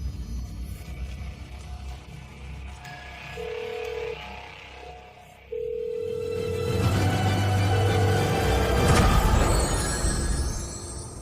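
Steady electronic telephone dial tones sound in broken segments on speakerphone, starting and stopping, over a rumbling background with a brief bright burst near the end.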